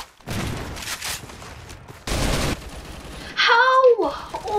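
Bursts of rapid automatic gunfire and a shotgun blast ring out in a Roblox gun game, loud and close, with a high-pitched voice exclaiming near the end.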